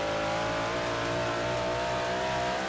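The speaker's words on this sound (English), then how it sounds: "Listen to them cars right there" Dirt race cars roar steadily around a half-mile oval in a racing video game, a dense continuous engine drone with no pauses, loud throughout.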